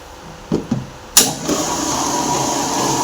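A kitchen mixer grinder starts up with a couple of clicks and a jolt, then runs steadily as it grinds ingredients without added water, a loud continuous whir close by with no voices.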